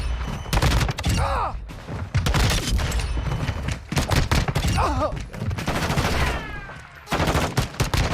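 Rapid bursts of pistol fire in the video game Modern Warfare II, loud and close, coming in several quick volleys with brief pauses and a few whooshing effects between them.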